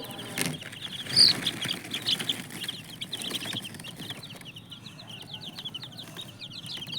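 Chickens cluck and stir on a rooftop with a brief burst of wing flapping, while small birds chirp steadily in the background outdoors.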